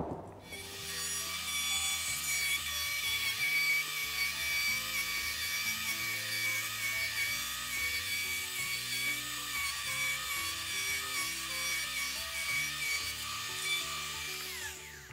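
A power tool cuts across an end grain cutting board to flatten it, giving a steady, loud, continuous grinding whir with a rasping edge that holds evenly for the full stretch.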